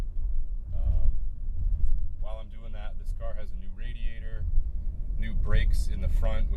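Road noise from a 2002 Infiniti i35 car driving along a road, a steady low rumble throughout with people talking over it.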